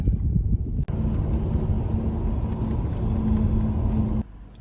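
A Tesla cruising on a road toward Chestnut Hill, Massachusetts, giving a steady low interior road rumble with a faint hum, broken by a brief dip near the start and cutting off just before the end.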